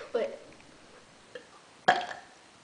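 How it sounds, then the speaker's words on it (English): A couple of short, low burps stand out against quiet, with a small click between them. "Do the burp."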